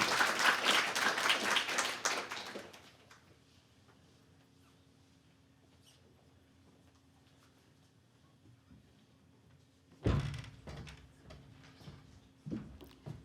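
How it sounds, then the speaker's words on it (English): At a library expansion gala, the audience bursts into loud, dense applause that cuts off after a couple of seconds. A long, quiet stretch of low room hum follows, then a second sharp burst of clapping and clatter near the end. "Let's have a big round of applause for Julia and her colleague from the El Camino Board"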